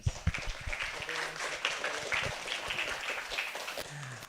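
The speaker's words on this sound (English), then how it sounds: "Give applause to Mr. Reyes." Scattered applause from a seminar audience at a university guest lecture, a thin patter of claps with talk and room noise mixed in, moderately near and fairly quiet.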